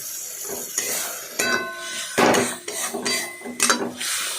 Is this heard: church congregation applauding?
no